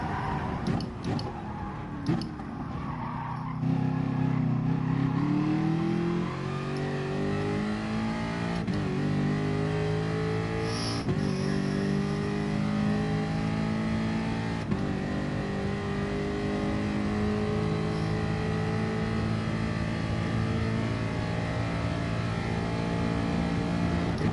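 A race car engine in Gran Turismo runs steadily high in fifth gear on a track, its pitch slowly rising and holding without topping out, loud and continuous with no talk.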